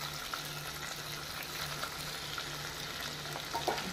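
Squid frying in melted butter in a pan gives a steady, close sizzle and crackle that holds evenly throughout, with a faint low hum underneath and a few small pops near the end.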